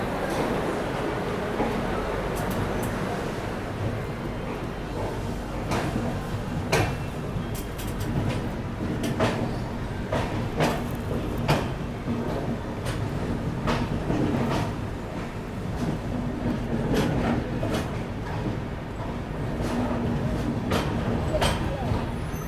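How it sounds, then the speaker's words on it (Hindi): Humsafar Express pulling out of Chennai Egmore station, a steady rumble of rolling wagons with scattered clanks and clicks over the rails, a voice talking over it throughout. "अपने एकदम निर्धारित समय 8:40 पे अपनी ट्रेन निकल रही है अभी फिलहाल चेन्नई एग्मोर से"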